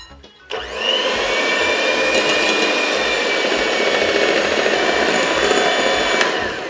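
An electric mixer blends chocolate cake batter with vegetable oil in a kitchen, switching on after a brief moment and then whirring loudly and steadily at close range, a constant high motor whine with no talk.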